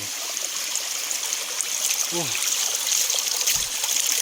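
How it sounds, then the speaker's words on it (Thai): Steady rushing and trickling of a flowing stream fills the whole stretch, with a brief faint voice or call partway through. "สังเกตเบื้องน้ำไหลครับ"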